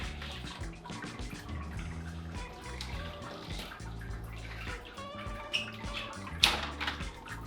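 Wort drains from a homebrew mash tun during sparging for a milk chocolate stout, a steady rushing, splashing flow of liquid with a few louder drips and splashes near the end.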